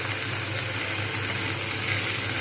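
Ginger-garlic paste loosened with a little water sizzles in hot oil among frying spices for a vegetarian curry, a steady, dense hiss that holds evenly close by throughout.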